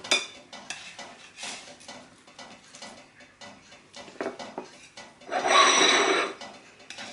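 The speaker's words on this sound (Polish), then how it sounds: "Zdejmujemy folię spożywczą i kroimy" Cutlery scrapes and taps through a chilled blueberry dessert on a plate in short, irregular strokes, ending in a louder, sustained scraping rasp near the close, with no voices.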